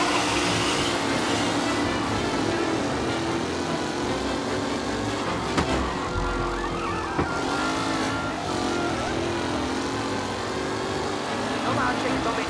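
Race cars roar around a track in Mafia: Definitive Edition, engines droning steadily with brief tire skids, while a commentator talks over the racing.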